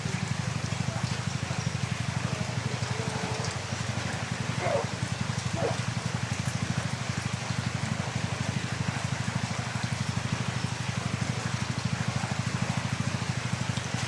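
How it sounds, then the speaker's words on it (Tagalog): Heavy rain during flooding in Mindanao, a constant dense hiss of downpour with a steady low rumble and occasional faint splashes, continuous and unbroken. "Grabe yung ulan"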